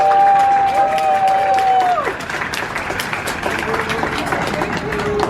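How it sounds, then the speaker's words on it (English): Passengers aboard a United Airlines flight applaud a retiring captain, scattered clapping and cheering in the cabin that rises after a brief tone, with voices and chatter mixed in. "A round of applause."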